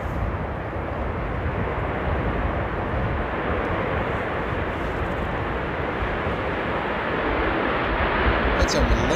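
A Transavia Boeing 737 roars steadily in reverse thrust at Amsterdam Airport during rain and strong winds, a broad, sustained rumble heard from a distance under a person talking.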